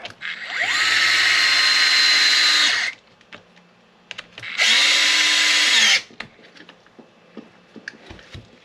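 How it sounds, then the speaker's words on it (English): A DeWalt cordless power drill driving screws whines loudly in two bursts, a long one then a shorter one, with faint clicks and handling noise in between. "You're gonna have to excuse the noise of this DeWalt."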